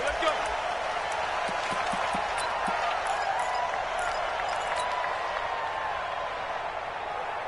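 Steady roar of a stadium crowd cheering in a PS4 American football video game, Philadelphia Eagles versus Washington Redskins, a constant wash of noise with scattered claps, while game commentary talks over it.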